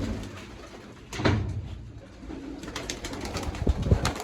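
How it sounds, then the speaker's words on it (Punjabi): Pigeons cooing at a rooftop pigeon loft: a low throaty coo comes early, then several more soft coos close together near the end over a quiet background. "ਡੋਰ ਵਾਲਾ ਕਬੂਤਰ"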